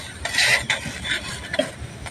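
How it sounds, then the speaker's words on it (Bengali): Gola ruti pressed down again and again as it fries in a pan, with soft scraping and clinking from the utensil against the pan and no talking. "আমি এইভাবে চেপে চেপে গোলা রুটিটা ছেঁকে নিচ্ছি"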